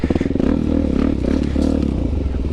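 A Suzuki DRZ400 dirt bike rides off-road over logs, its engine pulsing loud and close with rough throttle bursts and clattering knocks from the chassis as it bounces across the obstacles.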